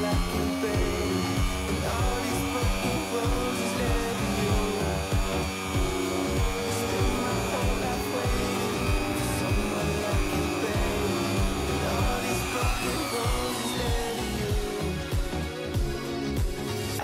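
A Ryobi polisher buffs the bumper of a Ford truck, a steady, loud electric whir running continuously and close throughout.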